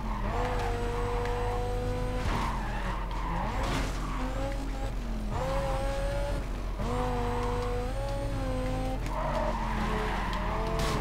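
Race cars in the video game Need for Speed Carbon skid through a corner, with loud, sustained tire squeals that rise and fall in repeated waves over a steady engine drone and game music.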